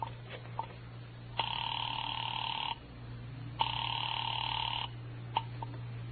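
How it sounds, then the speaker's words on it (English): An old telephone being dialed and then ringing in a 1940s detective radio drama: a few faint clicks, then two long, steady ring-tone bursts separated by a pause, clear and mid-level over a low hum. "I dialed Bradshaw 711 and waited."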